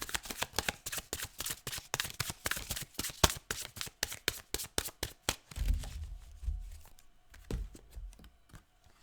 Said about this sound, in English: I'm using the Archangel Power Tarot cards by Doreen Virtue